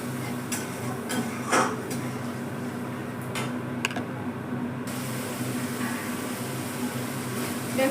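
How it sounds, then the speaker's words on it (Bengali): Spices and yogurt being stirred in a pan for an eggplant curry: a few soft scrapes and clinks of a spoon against the metal over a steady low kitchen hum, with no voices. "দই দিয়ে একটু নাড়তে থাকবো।"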